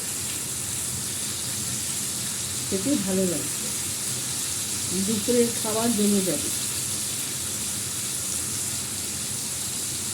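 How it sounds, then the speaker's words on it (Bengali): Potatoes frying in a pan, a steady, even hiss running throughout, with someone speaking over it for a few seconds in the middle. "একটু আলুগুলো ভালো করে ভাজা হোক"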